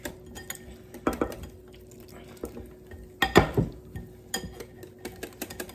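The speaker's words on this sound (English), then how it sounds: "then you whisk it up, make sure you get all the lumps out" A whisk beating fish batter in a bowl makes irregular metallic clinks and scrapes, close and fairly quiet, with brief louder bursts of knocking against the bowl.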